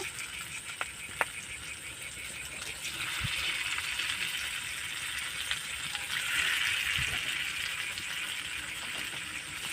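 Soybean and lentil dhoka pieces fry in hot oil in a pan with a steady, close sizzling hiss. A few faint clicks and taps sound over it, and the sizzle swells slightly partway through.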